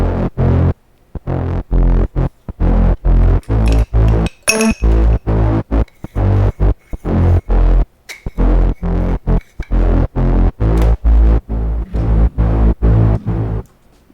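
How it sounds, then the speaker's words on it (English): A thick, buzzing Reese bass synth pulses in a steady, chopped rhythm, loud and gritty with brief gaps and occasional high glassy clicks. "And that Reese bass sounds like this."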